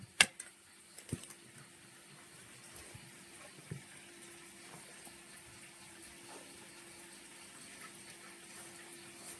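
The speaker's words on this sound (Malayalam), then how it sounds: "നമ്മൾ കുറേശ്ശെ വെള്ളം ഒഴിച്ചിത്" Water is poured little by little with salt onto puttu flour to moisten it, a faint, quiet trickle with a few soft knocks near the start.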